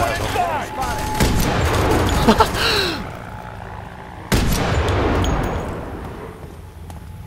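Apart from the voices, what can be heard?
rifle gunfire in F.E.A.R. 3 video game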